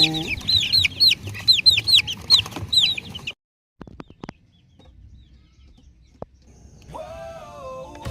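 Chickens and chicks cluck and peep in rapid bursts for about three seconds, then fall quiet apart from a few knocks, before a higher chick-like call returns at the end.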